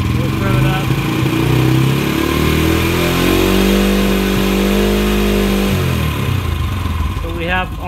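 A Honda TRX90 ATV engine idles, then revs up loud and close into a sustained buzzing drone before dropping back down, while a person talks over it.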